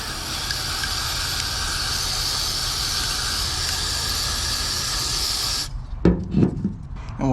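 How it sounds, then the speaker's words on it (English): A steady, continuous aerosol spray of mass airflow sensor cleaner on a Chevy Silverado hisses for several seconds, then cuts off, followed by a few light handling clicks and rustles. "we could go ahead and spray this mass airflow cleaner just like so"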